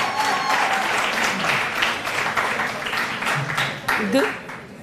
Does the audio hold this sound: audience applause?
yes